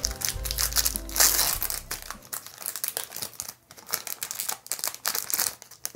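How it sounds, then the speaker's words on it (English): Pokemon card booster packs being ripped open by hand, a loud close crinkling of foil wrappers at first, then a stretch of scattered tearing and rustling crackles that continue to the end with no talk. "we're going to open these packs now"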